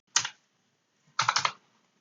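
Two short bursts of computer keyboard typing, a quick pair of keystrokes followed by a faster run of three or four, close and crisp with silence in between, while code is entered in R.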